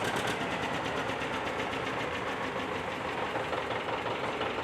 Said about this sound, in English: This is a John Deere 830 diesel.